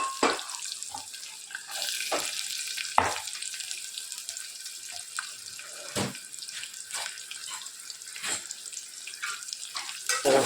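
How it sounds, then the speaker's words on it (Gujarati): Onion, tomato, garlic, green chilies and curry leaves fry in oil with mustard seeds, a steady hiss with sharp spoon-scrape clatters every second or two, close and moderately loud with no talking. "ડુંગળી અને ટામેટાં ચડી ગયા ત્યાં સુધી સરસ આપણે એને શેકાવા દઈએ."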